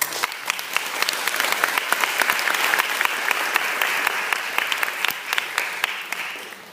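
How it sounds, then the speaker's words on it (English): Applause from a debate audience swells and holds for about seven seconds, many hands clapping in a thick, even patter that tapers slightly toward the close. "Can I have a round of applause for everyone?"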